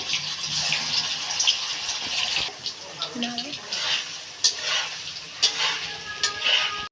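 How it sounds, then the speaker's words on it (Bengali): Paneer frying in oil in a kadai, a crackling sizzle with bursts of spatter and scraping clinks of a utensil, a voice speaking faintly over it at times. "কড়াইয়ে পনিরটা প্রথমে ভেজে নিতে হবে"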